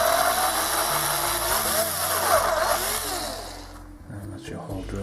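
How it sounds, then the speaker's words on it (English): A power drill whines steadily at high speed as it bores through material, then winds down and stops, with a voice speaking over it. "just letting the drill do all the work"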